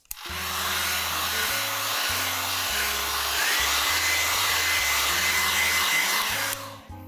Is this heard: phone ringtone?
no